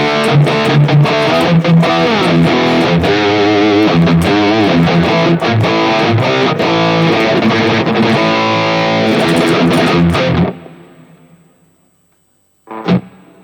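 Electric guitar played through the drive or distortion effect of a Mooer GE1000 multi-effects unit, loud crunchy chords ringing for about ten seconds before cutting off, followed by silence and one short strum.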